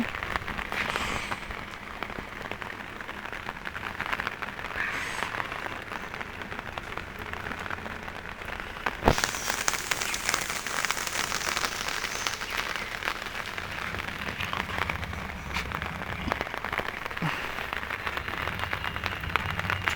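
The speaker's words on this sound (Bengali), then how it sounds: "বাইরে বৃষ্টি পড়ছে" Continuous rain hissing and pattering outside, a dense even wash of drops with no letup, moderately loud.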